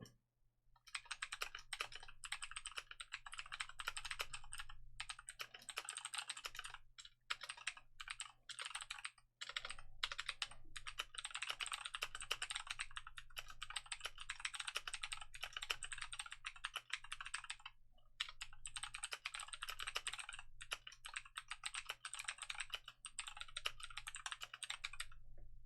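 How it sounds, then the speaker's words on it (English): Rapid, continuous clatter of keys on a computer keyboard during a timed typing test, loud and close, in long dense bursts broken by a few short pauses, with a steady low hum underneath and no talking. "So that's my typing speed, and that's all I need."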